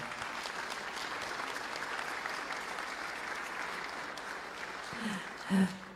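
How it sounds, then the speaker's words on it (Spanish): An audience at a livestock exchange event applauds steadily for several seconds, a dense patter of clapping, with a brief voice rising near the end. "Gaby, un aplauso por favor para Norma."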